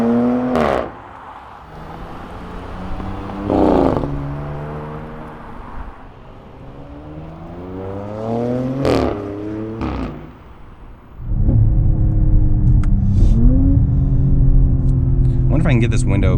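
A 2020 Audi S7 engine and exhaust rumbling from inside the car while driving, with revs rising and falling through several upshifts; someone talks over it, then the engine note swells louder and steadier near the end.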